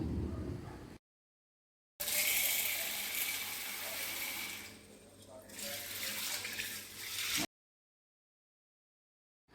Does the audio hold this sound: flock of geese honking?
no